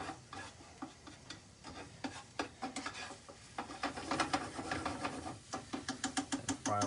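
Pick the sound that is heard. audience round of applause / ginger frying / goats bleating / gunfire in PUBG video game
ginger frying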